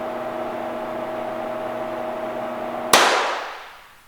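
A single sharp 25m standard pistol shot in ISSF shooting cracks loudly after several seconds of steady background hum, its report decaying quickly into a fading echo.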